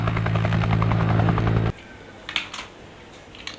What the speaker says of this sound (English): Wow, this is a nice helicopter.